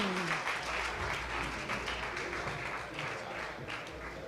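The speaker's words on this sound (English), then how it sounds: "Let's give him a great round of applause." A conference audience applauds after a speaker's talk, sustained clapping from a crowd at moderate distance with a faint low hum underneath.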